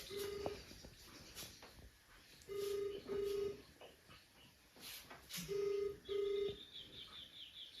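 Telephone tones in a comedy skit: pairs of steady electronic beeps repeat at regular intervals, like a ringback signal after dialing, over a faint hiss and light background chirps.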